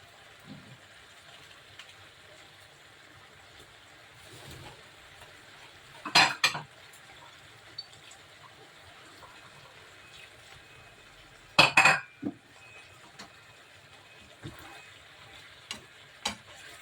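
Ilocano igado, a pork and liver stew with chicken stock cubes, stirred in a pan: quiet simmering bed broken by two loud clattering bursts of a metal spoon against the pan, plus a few lighter clinks.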